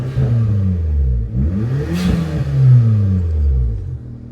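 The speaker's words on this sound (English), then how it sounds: "And then here's a rev." Daihatsu Mira small car fitted with a custom exhaust revs up loudly nearby, a deep rumbling idle rising into a sweeping rev and falling back, with no talking.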